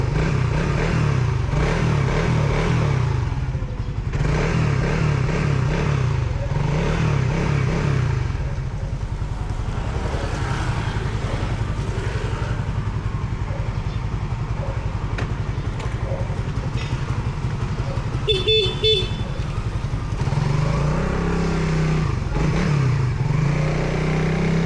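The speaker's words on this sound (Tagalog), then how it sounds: "Napainit ko lang tong motor," A motorcycle engine idles steadily as it warms up, a close, continuous low rumble with slight rises in revs and a brief clattering patch near the end, no talking.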